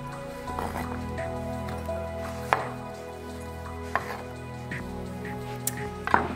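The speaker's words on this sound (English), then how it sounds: "And then just chop this up." Cucumber, deseeded with a spoon, being chopped with a knife on a board for a cucumber wakame salad: a handful of sharp, separate cutting knocks standing out over a steady quiet background hum.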